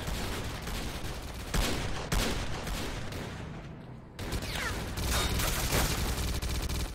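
Gunfire in S.T.A.L.K.E.R. Clear Sky, with rapid shots and bursts, including machine-gun fire, crackling almost constantly and loudly, with a short lull just before the firing surges again.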